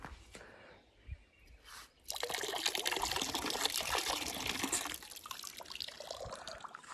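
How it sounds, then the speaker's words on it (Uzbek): Water from a kitchen tap starts after a quiet moment and then pours in a loud, steady, continuous rush that eases slightly toward the end, with no voices. "Mana kran suvlar kelgan."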